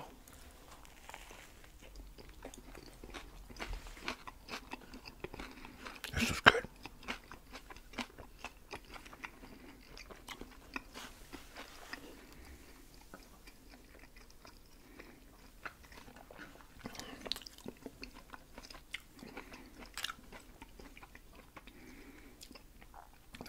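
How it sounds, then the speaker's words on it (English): Crunchy Cuban food topped with dried onions being bitten and chewed close to the microphone, a steady patter of small crunches with one louder bite, quiet and intimate throughout. "I think the crunch is supposed to be the dry onions or something."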